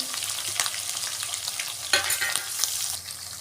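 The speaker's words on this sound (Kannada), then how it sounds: "ಚೆನ್ನಾಗಿ ಫ್ರೈ ಮಾಡ್ಕೊಳ್ಳಿ" Curry leaves, green chillies and onion with cumin sizzle steadily in a pan for a vegetable stir-fry, a continuous close frying hiss broken by a few brief stirring clatters, with no voices.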